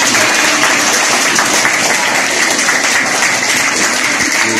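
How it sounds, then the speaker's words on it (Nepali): An audience at a birthday gathering breaks into loud, sustained applause, a dense, even wash of clapping with no pauses. "सबैजनाले जोरदार ताली बजाइदिनु होला"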